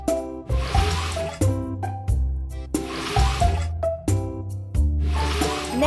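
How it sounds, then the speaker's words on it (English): Water gushes and splashes in repeated bursts, pumped out of a pond in a farm video game, each surge about a second long with short gaps between, close and fairly loud. "Tap on the pedal of the pump to pump out the water."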